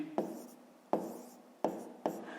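Numbers being written by hand in a maths exercise, with four distinct taps and short scratches of a pen on paper at uneven intervals, close and fairly quiet.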